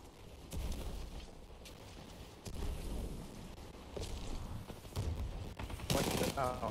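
An automatic pistol in Titanfall 2 fires in fairly quiet bursts amid other combat noise, with a sharper cluster of shots near the end.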